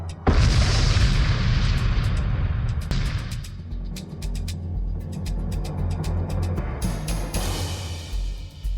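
A bomb explodes in an action film scene, a loud booming blast with heavy low rumble that swells, eases, then bursts again with debris crackle near the end, sustained and loud throughout.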